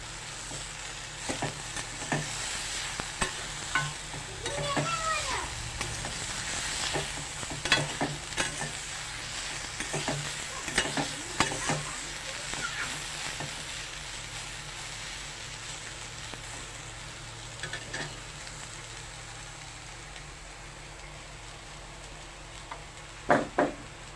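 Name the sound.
soybean chunks frying in a wok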